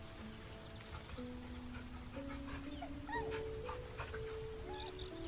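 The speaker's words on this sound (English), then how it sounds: "people like the fact that I'm petting a dog" A dog being petted in the Baldur's Gate 3 video game gives soft whimpers and yips over a steady, busy game background, with music-like tones running throughout.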